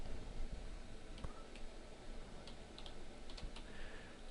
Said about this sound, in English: I'll type line height